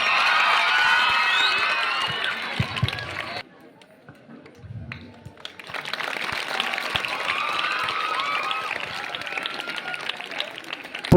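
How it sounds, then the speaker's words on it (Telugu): An audience at a school foundation ceremony for science lab rooms in Nizamabad claps to welcome the local MLA: dense, close applause, a short lull, then sustained clapping again. "అందరూ చప్పట్లతో స్వాగతించాలని చెప్పి కోరుతున్నాం."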